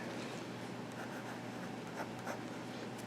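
A broad-nib Conklin Israel 75 fountain pen glides across paper in a soft, steady scratch lasting a few seconds, quiet and close, with faint ticks of stroke changes and no talk.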